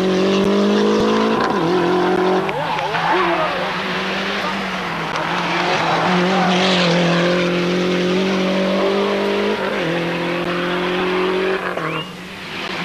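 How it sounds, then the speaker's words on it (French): A Lancia rally car races along a Monte Carlo Rally stage in 1988, its engine revving loud and near with rising and falling pitch as it shifts and slides, under a commentator's voice. "Sa Lancia glisse décidément un peu trop."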